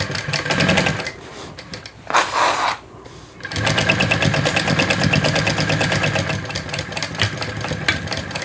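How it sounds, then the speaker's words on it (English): A sewing machine stitches along the raw edges of a sling bag's lining seam, running in close, steady bursts with a brief pause partway through, then carrying on continuously to the end. "I'm going to sew this edge up at the seam allowance specified in the pattern."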